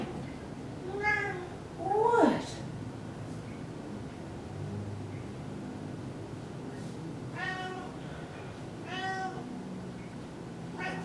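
A cat meows several times, one rising cry followed by a few shorter plaintive mews, close by, with a brief spoken word between them.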